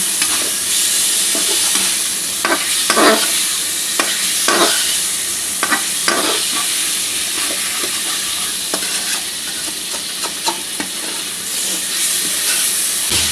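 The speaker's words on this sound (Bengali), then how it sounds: "এখন চিংড়িটা মশলার সাথে খুব ভালোভাবে মাখিয়ে নেব।" Prawns frying with spices in a pan for a home-cooked dish, stirred steadily: a continuous bright sizzle with intermittent scraping and clinking of the spoon, close and fairly loud.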